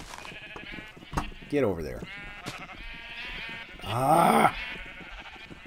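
Sheep bleat in a farming video game, two drawn-out wavering bleats standing out over a steady game backdrop while someone talks and exclaims.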